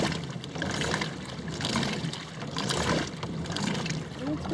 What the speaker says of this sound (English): we're getting lots of bubbles, probably because I'm sitting in the front of the boat